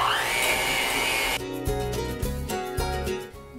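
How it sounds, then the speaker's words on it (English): Electric mixer beating softened cream cheese with granulated white sugar, a steady whirring drone that shifts into a bumpier, rattling churn partway through, close and continuous with no talking. "And let's go ahead and mix."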